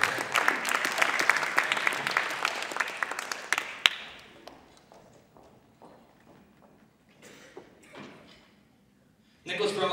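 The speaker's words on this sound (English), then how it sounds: "Give her a big round of applause." Audience applause at a hypnotist's stage show, loud and dense at first, then dying away after a few seconds into sparse claps and quiet room noise before a voice cuts in at the end.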